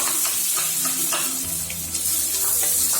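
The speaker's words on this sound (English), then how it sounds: "After the oil heats, we have to add 1 cup of finely chopped onion." Finely chopped onion sautéing in hot oil for a veg Mughlai paratha, a dense, loud, continuous sizzle close up, with faint stirring scrapes underneath and no voices.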